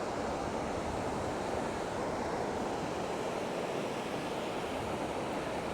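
Ocean surf on the beach at Long Beach, Washington, makes a steady, broad wash of wave noise with wind buffeting the microphone and no voices.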